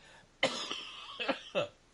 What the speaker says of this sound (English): everybody's about to cough